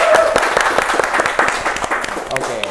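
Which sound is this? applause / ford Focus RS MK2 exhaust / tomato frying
applause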